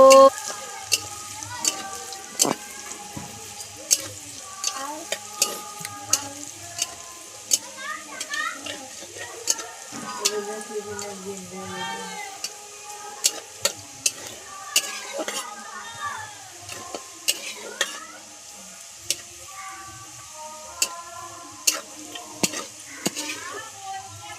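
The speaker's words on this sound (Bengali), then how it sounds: "প্রথমে আমরা গাজর ভেজে নিলাম। একটু ভাজা ভাজা করে ভেজে নেব।" Carrots stir-fried in a pan at home, with a steady background sizzle and repeated sharp scrapes and clacks of a spatula against the pan, close and distinct, a voice talking over it.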